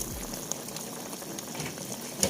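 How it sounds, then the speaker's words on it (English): Shark simmering in a covered pot during a Kenyan dinner, a soft, steady bubbling and gurgle with a faint thump near the end. "leave it to simmer so that the shark can cook thoroughly."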